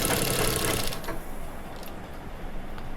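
A sewing machine stitching a round seam while altering a ready-made nighty, a steady close mechanical whir that eases slightly after the first second and keeps running.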